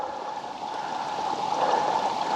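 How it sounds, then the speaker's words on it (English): A small trickle of water in a creek, a steady close babbling flow with no voices, holding even and slightly swelling toward the end. "It's just another little trickle."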